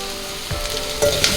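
Onions tossed with salt in a hot pan for ghee dal sizzle and fry steadily, with a couple of louder crackling surges as they are stirred.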